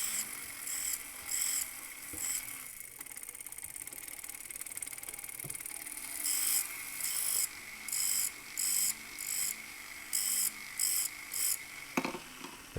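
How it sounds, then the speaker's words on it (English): Repeated bursts of high, raspy grinding as a sanding disc sharpens the metal bezel wall of a trillion-cut ring, coming in short regular pulses over a faint steady hum, close and moderately loud. "So you're sharpening the top of this bezel wall."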